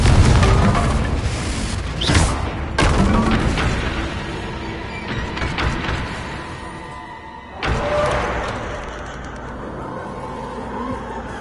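Spell blasts from Hogwarts Legacy, a Harry Potter video game, with the Confringo fire spell among them: several loud booming bursts, sharp bangs followed by rumbling decay, punctuating continuous game ambience.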